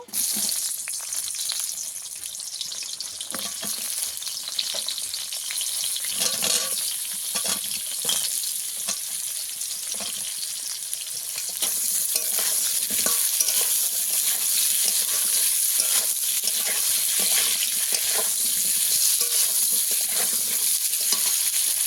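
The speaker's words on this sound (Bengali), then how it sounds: "তেলে আরেকটু তেল দিয়ে দেব। পটলটা ভেজে নেব।" Pointed gourd (potol) fries in oil, a continuous close sizzle with frequent stirring clatter. It grows louder and denser about halfway through.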